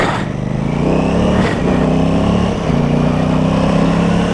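An Aprilia Tuono 660 motorcycle pulls away hard on a test ride on a warm day, its engine close and loud as it revs up through the gears, with a brief dip near the middle before the pull resumes.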